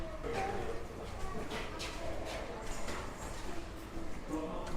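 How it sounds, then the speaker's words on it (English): Pigeons or doves coo softly at a windswept Norfolk beach, repeated low calls under steady outdoor wind noise and a faint background murmur. "So you can sit here with your binoculars and check out some of the wildlife, some of the birds."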